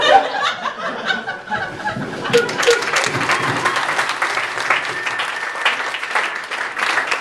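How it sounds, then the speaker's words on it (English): Audience claps for a comedian at a stand-up night in Sockeye Brewery, a steady dense round of applause with scattered chuckles and cheers mixed in, lasting the whole stretch without speech. "Give him a round of applause."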